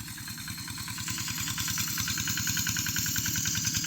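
A motorcycle engine runs near a farm field, a throbbing, even pulse that builds slightly in loudness, close and alone with no talking.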